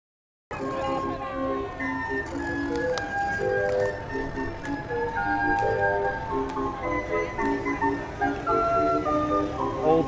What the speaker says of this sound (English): Old-timey pipe organ car coming by.